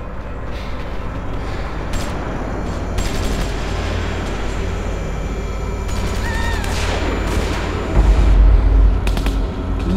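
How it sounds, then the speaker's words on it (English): Scattered gunshots in The Walking Dead Season 2 video game pop and crackle over a dense, rumbling battle backdrop, with a heavier burst near the end. "gunshots are still going off?"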